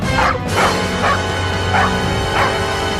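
A dog barks in a string of about five sharp, evenly spaced yaps over a steady, humming background, loud and close with no talking.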